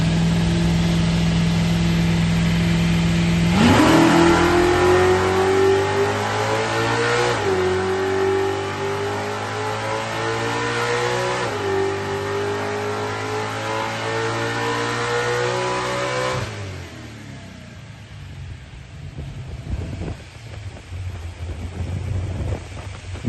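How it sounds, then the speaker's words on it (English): Ford 408 Cleveland V8 in an XE Falcon S-Pak with a billet APD 950 carb and ICE ignition, revving hard on a rear wheel dyno, climbing through gear-like stages in a loud sustained howl, then dropping off to idle rumble. "it was time to head off to the rear wheel dyno for a retune and see what that billet APD 950 carb and ICE ignition had to offer"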